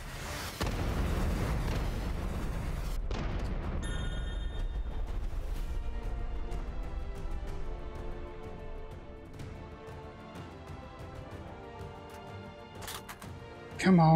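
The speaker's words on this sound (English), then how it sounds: "Oh no, here come the missiles." Incoming missiles boom in the VR shooter game Hot Dogs, Horseshoes & Hand Grenades, a loud rumbling blast at the start giving way to ringing, pinging game tones and a final burst, with a player talking in places.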